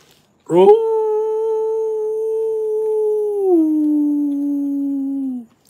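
A human voice imitates a dog's howl: one long, sustained, tonal wail lasting about five seconds. It dips slightly in pitch partway through before fading out.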